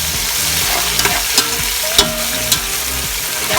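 Onions and garlic frying in a pan with a loud, constant sizzle, while a spoon scrapes and stirs in several distinct knocks against the pan, close up and with no voices.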